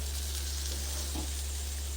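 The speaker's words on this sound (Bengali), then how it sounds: "ভাজা বেগুনগুলো সমস্ত আমি দিয়ে দিচ্ছি দিয়ে এবার খুব সাবধানে একটু নাড়তে হবে" Fried eggplant being gently stirred into poppy seed paste in a pan over a lowered gas flame gives a steady, soft sizzle with faint scraping, close and even throughout.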